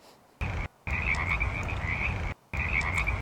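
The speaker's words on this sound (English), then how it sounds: "So we have like a frog sound and a fire and crackling." A frog croaks in three sustained raspy bursts separated by short gaps, clear and fairly close against a quiet background.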